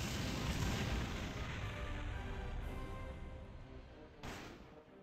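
An Omega Fire spell explodes in the video game Disgaea 1 as a sustained, dense roaring blast that fills the whole stretch and fades slightly, loud and broad, with a sharper burst near the end.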